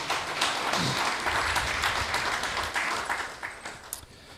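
A crowd at a temple festival gathering claps for the team that prepared the Sunday feast, giving a steady wash of applause that tapers off at the end.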